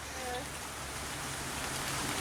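Steady rain pattering on dense vegetation beside a creek, a continuous soft hiss of drops at even, moderate loudness with no break.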